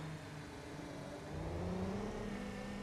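Pace car engine in BeamNG.drive revving steadily and rising slightly in pitch, a continuous mid-range motor drone heard alone and fairly loud throughout.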